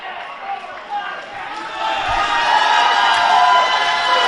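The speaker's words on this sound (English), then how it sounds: "Hearing it from the crowd." Crowd at a live EVOLVE 12 pro wrestling event, cheering and shouting that swells louder over a few seconds beneath a commentator's voice.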